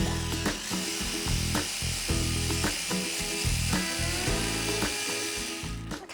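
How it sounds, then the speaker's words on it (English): Butter and cream are whisked for a Christmas pudding, with a close, loud, rhythmic whir broken by repeated regular knocking strokes throughout. "I'm going to whisk this until the butter and cream has been nicely incorporated"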